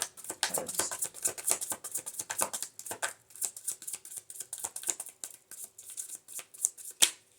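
Tarot cards being shuffled by hand, a rapid series of crisp papery riffles and flicks up close, coming in short bursts with brief pauses between them, with no voices.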